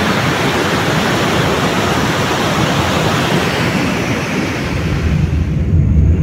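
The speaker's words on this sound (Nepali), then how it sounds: "खोला यहाँ छ" A swollen mountain river on a trek route after recent floods rushes past in a loud, continuous roar close by, mixed with wind buffeting the mic and no speech.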